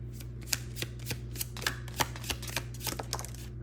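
A deck of Hidden Truth Oracle cards being shuffled close up, a quick rhythmic run of soft riffling flicks and taps over a low steady hum, with no voices.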